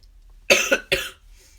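A man gives a short fit of three close, harsh coughs in quick succession, the first two running together and the third slightly apart, in a quiet room.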